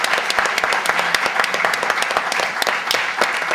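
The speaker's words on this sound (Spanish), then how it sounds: "un aplauso" Closing a literary talk session, an audience breaks into lively applause, with sharp individual claps standing out from a steady crowd roar.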